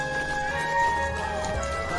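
Horse hooves clip-clop steadily near the gate of a capital city, mixed with a marching crowd and sustained tonal music, all at an even, moderate loudness.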